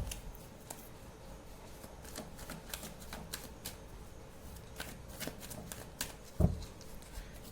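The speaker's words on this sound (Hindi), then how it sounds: "एक तो ये डेक इतना बड़ा है, मैं शफल कर ही नहीं पाती।" A large deck of tarot cards is shuffled by hand, quiet papery riffles and soft flicks at close range against a faint background hum, with a single louder knock near the end.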